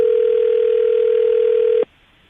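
A telephone dial tone plays as a single steady, loud, pure hum for almost two seconds while a call is placed, then cuts off abruptly into near silence.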